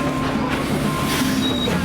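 Interior of a Tweetsie Railroad passenger car during a train ride, with a steady rumble of wheels on track and a faint wheel squeal, continuous and close.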